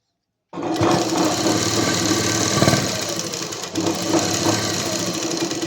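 An electric sewing machine runs a continuous stitching seam on a kurti collar, its steady mechanical whir and needle chatter close and loud, briefly slowing once before carrying on.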